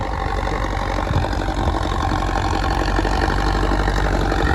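A tractor engine runs steadily in second high gear, a loud, continuous low rumble with a slight knocking pulse, close by and without talk.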